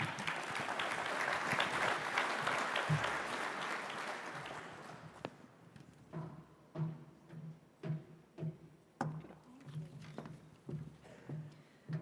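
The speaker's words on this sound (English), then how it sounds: "Let's have a round of applause for Shari Gallop." A conference audience applauds a keynote speaker with a dense round of clapping that fades after about five seconds, followed by someone speaking alone into a microphone.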